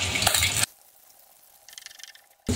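Onion paste hitting hot oil tempered with nigella seeds, a loud burst of frying at the start, then a quiet stretch with faint sizzling and light stirring before another loud surge at the end.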